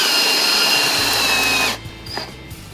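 Power drill driving a Type 17 point screw into lumber, a loud steady whine for under two seconds that stops abruptly, followed by faint clicks.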